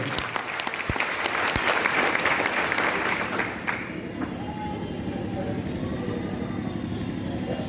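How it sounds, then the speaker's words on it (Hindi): In Araria Town Hall, an audience at a private schools association annual function claps loudly for guests for about four seconds; the applause then fades, leaving a low steady hum with faint background sounds. "एक जोरदार ताली हो जाए इनके लिए।"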